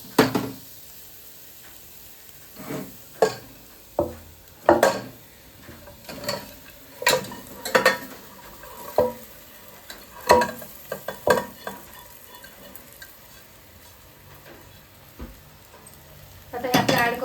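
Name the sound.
stirring roasted mutton with ginger garlic paste in cooker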